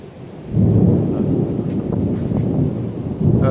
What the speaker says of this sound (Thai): ไม่ใช่เสียงฟ้าปลอม เป็นเสียงฟ้าจริง ๆ